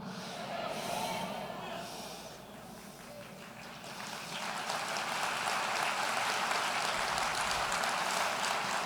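A church congregation claps in a continuous wash of applause that swells louder midway and stays dense, with voices mixed in beneath.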